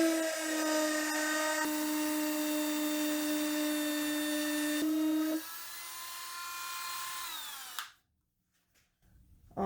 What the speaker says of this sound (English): Dremel with a routing bit would be good.